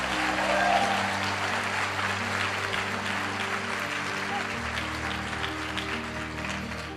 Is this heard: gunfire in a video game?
no